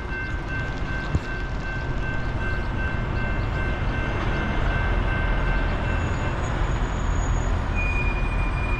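A CSX manifest freight train roars past at track side in South Plainfield, New Jersey, a loud, steady wall of rumbling wheels and cars with faint high squeals and a brief distant horn tone near the end.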